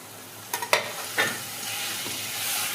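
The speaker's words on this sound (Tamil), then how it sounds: "இப்போ வந்து நம்ம தக்காளி போட்டுக்கலாம்" Tomatoes hit a hot pan and sauté, with a couple of sharp initial sizzles and spatula stirs fading into a steady, soft frying hiss on its own.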